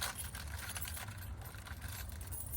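A large bunch of janitor keys jangles and rattles continuously up close, with a steady metallic shimmer throughout.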